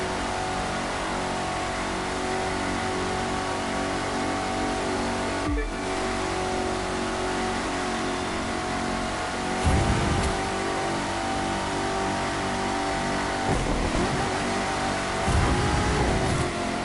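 A Corvette hypercar's engine drones steadily in The Crew 2 racing game, loud and continuous, with a few brief rising surges and revs near the end.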